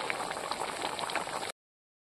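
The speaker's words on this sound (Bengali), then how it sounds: "ঝোলটা ফুটিয়ে উঠেছে" Fish curry broth with ash gourd at a rolling boil, a steady close bubbling and popping that runs unbroken and then stops abruptly.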